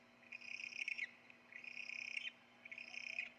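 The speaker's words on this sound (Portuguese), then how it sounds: "O som que as corujas emitem, a chamada voz da coruja, pode ser chamada de corujar, chiar" An owl gives three drawn-out, high calls at a steady pace, with a low, even hum running beneath them.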